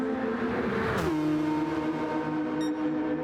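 A Mini VGT race car in a racing video game, four-wheel drive with 395 brake horsepower, runs on the Blue Moon Bay track. Its engine holds a loud, continuous drone and dips in pitch as it shifts, with no talk.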